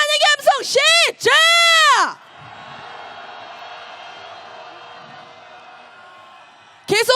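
A shouting voice leads off at a candlelight protest march in Korea calling for Yoon Suk-yeol's impeachment, then a large crowd answers with a sustained roar for several seconds before the voice returns.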